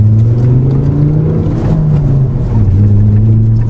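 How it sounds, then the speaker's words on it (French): Five-cylinder Volvo C30 T5 with a stainless exhaust accelerating on a wet road, a loud, steady engine drone heard close up from inside the car, rising and settling in pitch without any talk. "Ça doit être dû, je pense, aux 5 cylindres, mais le bruit est très très sympa, ouais, de cet échappement inox."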